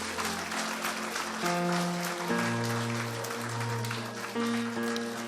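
A church congregation claps together through sustained organ or keyboard chords, applause steady and fairly loud from start to finish under the music.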